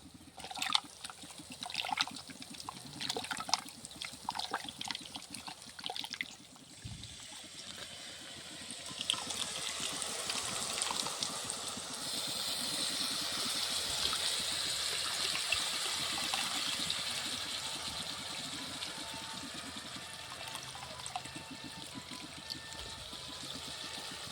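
Tamarind juice poured into a fish egg curry: a few seconds of splashy trickling and dribbling, then a long, even, soft rushing pour of liquid into the pot, close and moderately quiet.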